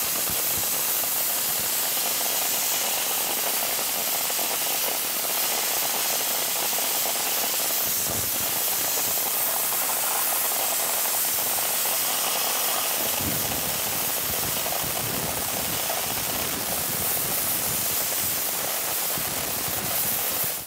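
Dry ice blasting inside a DeLorean engine bay, a steady loud high-pressure hiss and spray from the blasting gun running almost continuously, with brief shifts in tone as the nozzle moves.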